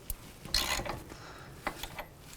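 A ratchet with a 22mm socket snugs up a tie rod nut on an Acura MDX, giving a few faint, irregular clicks and mechanical clunks.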